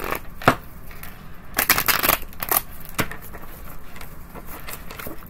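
Tarot cards being shuffled by hand in a series of crisp riffling bursts, loudest in the middle with quieter flicks between, close and alone without speech.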